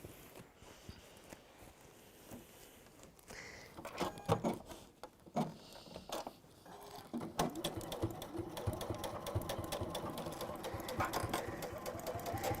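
A sewing machine stitching fabric close by, quiet at first with a few handling bumps, then a steady rapid mechanical whirr from about seven seconds to the end, no talking.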